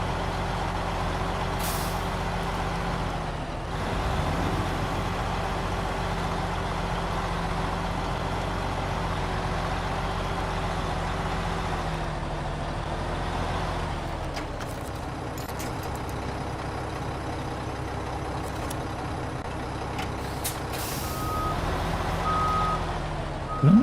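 A truck engine in the SnowRunner video game drones steadily while hauling a trailer downhill, with a constant low rumble, hissing air brake bursts, and repeated reversing beeps over about twenty-four seconds.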